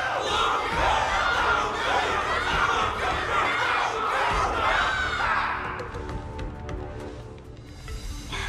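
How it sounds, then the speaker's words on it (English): A large crowd in the video game Honkai: Star Rail roars and cheers loudly and continuously, then the noise thins into scattered shouts and claps near the end. "Everyone's cheering for you, Luca!"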